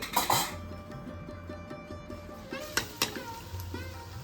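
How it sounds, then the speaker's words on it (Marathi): Puris deep-frying in hot oil in a large kadhai, a steady bubbling sizzle with occasional clinks of a metal utensil against the pan. "अशा रीतीने सगळ्या पुऱ्या पटापट आधी तळून घेतल्या"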